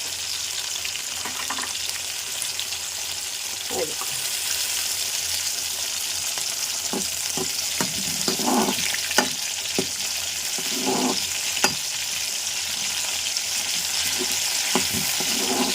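Tomato pieces sizzle and fry steadily in hot oil for a ridge gourd and tomato chutney, with occasional stirring scrapes and clinks close by. No talking is heard.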